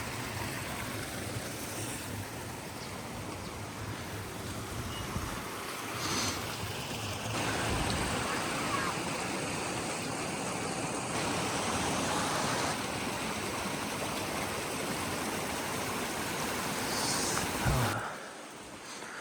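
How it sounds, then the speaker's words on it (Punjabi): Heavy rain pours over the wooden houses of Chitkul, a Himalayan mountain village near Sangla, as a dense, steady rushing hiss that swells midway and drops off sharply near the end. "ਮੀਂਹ ਵਾਵਾ ਤੇਜ਼ ਹੋ ਗਿਆ"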